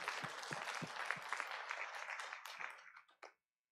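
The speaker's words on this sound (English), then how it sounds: "can we all thank Catherine again for her talk?" Audience applause after a talk at an Open Repositories 2018 conference session, a crowd clapping steadily for about three seconds before it quickly tapers off to silence.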